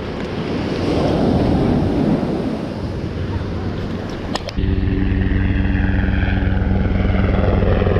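Jet planes and helicopters fly overhead above a beach during metal detecting. A steady engine drone rises over wind and surf, with a deeper humming rumble taking over partway through.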